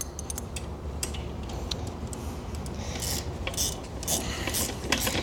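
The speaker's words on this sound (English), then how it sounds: "If you have 2 ratchets, oh my goodness, it's so much easier." Ratchet wrench tightening bolts while assembling a 422SB Ultimate Comfort swing, a steady run of quick clicking strokes over a rough scraping background, fairly close and moderately loud with no talk.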